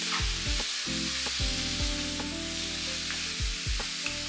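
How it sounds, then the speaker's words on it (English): Carrots frying in a pan for a Jamaican cabbage and saltfish breakfast give a steady, close sizzle with light stirring, heard over a background of music. "Carrots go in next. Let those cook off for about a minute."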